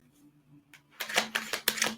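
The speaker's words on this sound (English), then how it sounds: "I want to do a quick shuffle." A deck of tarot cards is shuffled in quick bursts, a few light riffling flutters and snaps growing louder, with a faint hum beneath.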